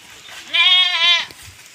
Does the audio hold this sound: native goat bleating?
yes